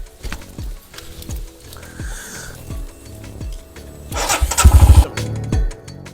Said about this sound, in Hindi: ले चलता हूँ मैं आपको देवरिया ताल की ओर अपनी बाइक हिमालयन पे।